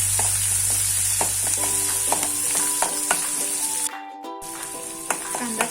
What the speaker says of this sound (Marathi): एक बारीक चिरलेला कांदा आहे तो टाकला कांद्याला छान कडकून घ्यायचं तेलामध्ये